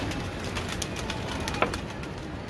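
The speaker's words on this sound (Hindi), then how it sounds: "नहीं भाई जान ये एक कबूतर आ चुका है, और उसके पीछे पीछे ही सारे उतर आए हैं।" Pigeons cooing and fluttering close by as they land on a rooftop outdoors, with soft wingbeats and a brief sharp flap amid steady background noise.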